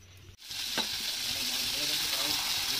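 A brief clatter, then a sudden burst of loud, continuous sizzling as small fish hit hot oil and fry.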